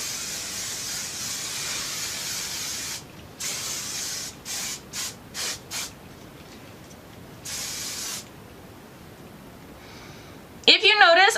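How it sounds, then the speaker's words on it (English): Matrix Vavoom extra full freezing hairspray hisses from the can in a long continuous spray, followed by several short bursts and another longer spray, with a brief sound at the very end. "I'm using the Matrix Vavoom freezing spray, extra full freezing spray"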